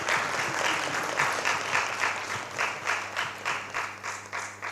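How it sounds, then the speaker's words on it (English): Audience applauding at a breakfast meeting, a steady wash of many hands clapping that carries on throughout with a pulsing rhythm, fairly full and close, with no talk over it. "Let's clap for her."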